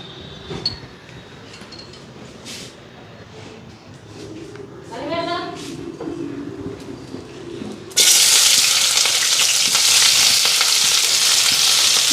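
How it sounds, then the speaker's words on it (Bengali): Cabbage and onion sizzle in refined oil in a pan, quiet stirring and clinks at first, then a sudden loud, steady frying hiss near the end, with someone speaking over it. "রিফাইন তেল দিয়ে দিলাম বাঁধাকপি আর পেঁয়াজটা ভেজা নিই"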